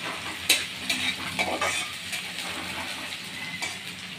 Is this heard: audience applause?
no